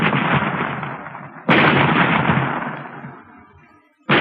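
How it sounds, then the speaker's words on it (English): Sci-fi serial weapon fire blasting and splitting a rock: two loud, sudden booming blasts, each followed by a long roaring rumble that slowly fades, with the second blast returning sharply at the very end. "They have found the range, Commander. You may fire. Fire! Look, the rock is splitting."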